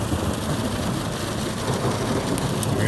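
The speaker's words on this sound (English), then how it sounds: "waiting for the rain to stop" Heavy rain pours steadily during a thunderstorm, a dense continuous hiss of drops on surfaces with faint low rumbling underneath, no voices.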